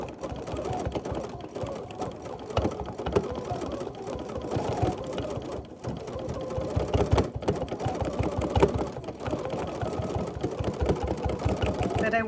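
A sewing machine quilting around embroidery runs continuously with a rapid, rhythmic needle clatter and motor hum, close and steady throughout with slight swells in intensity.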